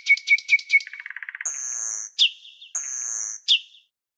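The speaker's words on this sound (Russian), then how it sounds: "Соловей." A cartoon nightingale sings a varied phrase of quick repeated chirps and trills followed by long clear whistled notes, bright and close with no other sound.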